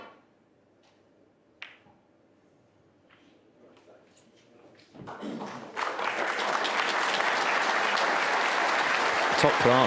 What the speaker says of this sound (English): The crowd more than happy to appreciate the tactical side of the game